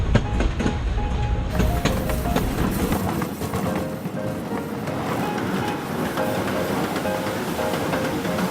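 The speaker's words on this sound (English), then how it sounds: "Waiting for our train. It'll be here soon" A White Pass and Yukon railroad train rolls past loudly and close at Skagway, Alaska, a continuous rumbling clatter of wheels and cars with rhythmic clicks, filling the whole stretch without voices.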